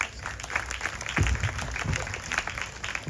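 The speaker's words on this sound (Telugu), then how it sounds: "నమ్మితే చప్పట్లు పెట్టండి" Audience clapping during a church sermon on the second coming, a steady mid-level patter of many hands holding for several seconds with no one speaking.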